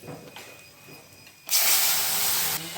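Slit green chillies hit a hot pan with a sudden loud hiss that holds steady for about a second before easing, after a quieter stretch of faint kitchen sounds.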